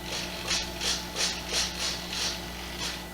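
RC model airplane elevator servos on a BF-109 or Carbon Cub whirring through a preflight check, a series of short buzzing sweeps repeating rhythmically, close and fairly quiet, no voice.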